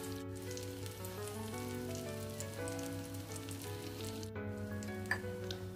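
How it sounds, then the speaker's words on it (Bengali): Egg koftas (nargisi kofta) fry in hot oil over a moderate flame, giving a continuous, even sizzle with soft crackles, heard alongside gentle background music. "এইভাবে আস্তে আস্তে প্রত্যেকটা আমি ভেজে নিচ্ছি।"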